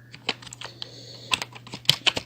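Keys clack on a computer keyboard in irregular bursts of quick taps, close and fairly soft, over a steady low electrical hum with no talking.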